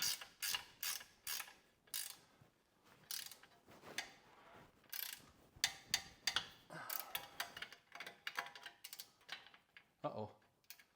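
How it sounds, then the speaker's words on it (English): A ratcheting wrench works on a lower control arm in the tight space under a GMC Acadia or Cadillac XT5, making quick, irregular bursts of close metallic clicking under faint background noise. "Enough room to fit a ratcheting wrench up there."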